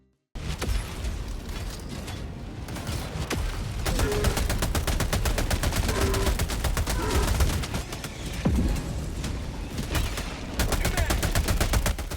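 Rapid, continuous gunfire from a weapon in the video game Helldivers 2 as it fires on Terminid bugs, with dense overlapping shots and bursts lasting the whole stretch, loud and close.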